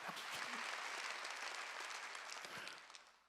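A church congregation claps hands together during a worship service, a dense, sustained wash of applause holding steady throughout before tapering slightly at the end, with no voices rising above it.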